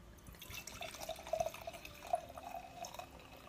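A red wine blend pours from the bottle into a glass in a soft, faint trickle with small splashes and glugs, quiet and close, with no voices.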